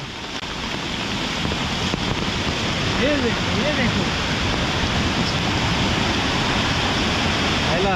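Water rushes over a bund in Konkan monsoon rain, a steady loud roar like a small waterfall filling the whole stretch, with a brief voice in the background.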